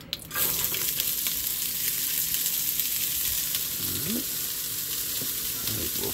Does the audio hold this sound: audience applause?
no